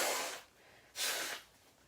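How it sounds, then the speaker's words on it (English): Someone with a plugged-up nose blows it twice into a tissue, two soft breathy hissing bursts close to the listener with a short pause between. "I got to blow my nose because I sound like I'm plugged up"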